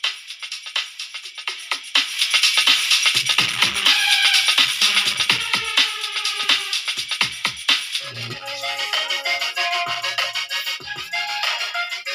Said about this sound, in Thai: ครับก็ทำการทดสอบเปิดเพลงนะฮะ